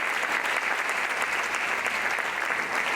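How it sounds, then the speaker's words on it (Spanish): A church congregation applauds steadily and loudly during a sermon, a dense continuous clapping that fills the space without pause. "dale fuerte ese aplauso al Señor"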